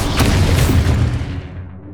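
A Confringo fire spell explodes in Hogwarts Legacy: one loud, booming blast with a deep rumbling body that fades over about a second and a half.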